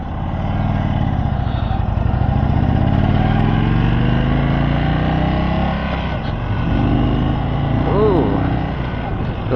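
A 2022 Indian Chief motorcycle engine runs loud and steady throughout the ride, its low rumble rising and falling as the rider works through gears, with a brief chirp of wind or tone near the end.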